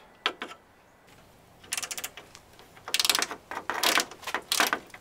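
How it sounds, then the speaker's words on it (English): An Easy Red bit ratchet fitted with a cut-down Phillips bit turns a screw on a Toyota, making rapid clicking ratchet bursts in several short runs, close and crisp with brief pauses between strokes. "I just cut down a Phillips bit, put it in this Easy Red bit ratchet."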